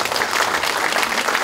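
Dense, loud audience applause fills a Democratic Party candidates' policy meeting in Gwangju, a steady wash of clapping from a crowd with no pauses.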